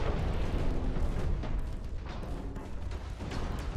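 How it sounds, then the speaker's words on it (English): A torpedo detonation at sea in the naval battle game Ultimate Admiral Dreadnoughts rolls out as a steady, heavy rumbling roar with a few duller thumps inside it, filling the whole moment without any voices. "We just had a torpedo detonation."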